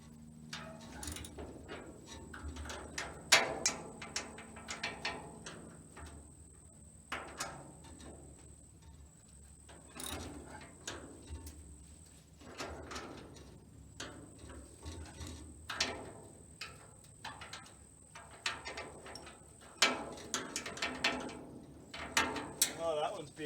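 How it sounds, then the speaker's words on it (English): Wrench working bolts loose while fitting a J&M gravity box, irregular metallic ratcheting clicks and clanks in clustered bursts, fairly close, over a faint steady background hum. "But back to our wrenches. See if we can get another couple bolts out."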